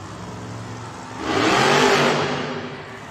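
Monster truck Earthshaker's engine revs at a Monster Jam event in Austin, Texas, a single rising roar swelling after a second and fading back into steady arena rumble.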